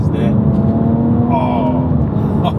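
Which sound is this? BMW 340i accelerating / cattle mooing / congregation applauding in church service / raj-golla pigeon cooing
BMW 340i accelerating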